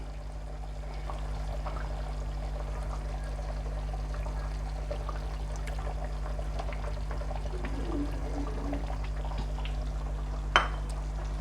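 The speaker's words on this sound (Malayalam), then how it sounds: "അപ്പം ഞാനിതിലിനി കുറച്ച് തിളപ്പിച്ച വെള്ളം ഒഴിക്കുന്നുണ്ട്." Boiled water pours into a pot of egg curry as a soft, sustained splash over a steady kitchen hum, ending with a brief clink near the close.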